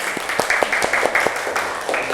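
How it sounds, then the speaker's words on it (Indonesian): A small group in a classroom lesson claps in uneven, scattered bursts, the close hand slaps overlapping briefly before trailing off. "Ayo tepuk tangan."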